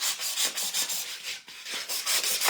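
Styrofoam being sawn with a rhythmic back-and-forth rasp, each stroke squeaky and harsh, repeating steadily at close range with no talking.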